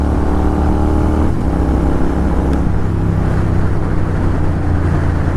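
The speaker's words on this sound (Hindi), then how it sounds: "देखो मैं कॉर्नर ले रहा हूँ जीटी में" A Royal Enfield Continental GT650 motorcycle leaning through a corner, its steady engine drone loud and close with low harmonic rumble, a brief shift in pitch partway through, and constant wind rush over it with no talking.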